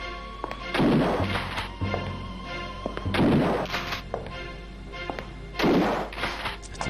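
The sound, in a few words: gunfire in video game Alone in the Dark 3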